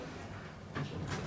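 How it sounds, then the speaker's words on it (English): Northern Lifts elevator doors closing in a shopping centre, a quick two-speed door slide heard as a soft rushing sweep with a louder swish near the end, no talk. "Doors closing."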